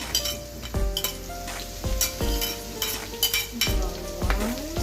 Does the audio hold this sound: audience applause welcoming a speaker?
no